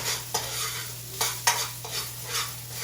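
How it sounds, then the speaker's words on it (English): Garlic and rice stir-fried in a hot wok for chicken fried rice: a steady sizzle is broken by several sharp scraping tosses of the spatula. "A little garlic to our fried rice. Move that around again. The key is that wok has to be hot."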